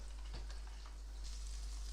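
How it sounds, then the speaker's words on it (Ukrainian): Steady hiss of butter sizzling in a hot frying pan, continuous and fairly even, with faint scraping or stirring noises on top. "Так, починаємо смажити нашу начинку."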